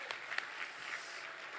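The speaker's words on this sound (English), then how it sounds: "Yes, let's clap." An audience at a community pancake breakfast claps at the opening welcome, a soft continuous wash of applause with a few louder claps near the start.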